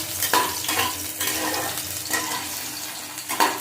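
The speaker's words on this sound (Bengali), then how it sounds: "আলুগুলো ভেজে দেবো" Potatoes fry in a pan with bay leaf and dried red chilli, giving a steady close sizzle broken by several scraping stirs of a spatula at irregular intervals.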